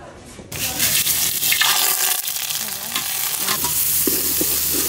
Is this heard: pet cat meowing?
no